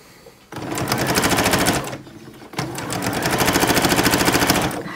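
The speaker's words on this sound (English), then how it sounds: "I'm going to try to sew along the edge of the bobbles" Sewing machine stitching a quilt top, with fast rhythmic needle chatter in two bursts separated by a short pause, close and loud.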